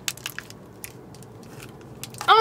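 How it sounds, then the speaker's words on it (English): Someone bites into a chocolate-covered, Milky Way-like UK candy bar, giving a few soft crackly bites and crunches close up, ending with a louder crinkly burst. "I'm going to eat this candy now."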